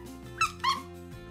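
An orange stuffed toy cat squeaks twice in quick succession, two short high squeals over a low steady background hum, with no talking.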